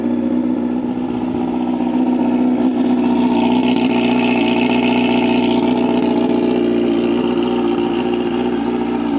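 A motorcycle engine idles while warming up on a cold start, a steady, loud, close running drone that holds throughout with no talk over it.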